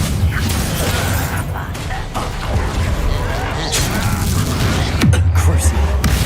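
Spell explosions from the Bombarda curse in a Hogwarts Legacy battle, with booming blasts and bursts throughout amid dense game combat noise, one heavier low impact near the end, a voice shouting spell names over it.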